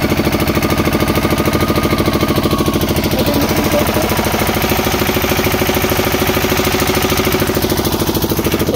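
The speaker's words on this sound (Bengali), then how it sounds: "এটা হলো স্যালোর মেশিন, ঠিক আছে। মেশিন দিয়ে জল দিচ্ছি আমি।" A shallow tube-well engine driving an irrigation water pump runs steadily and loudly close by, with an even, throbbing chug that continues throughout with no talk.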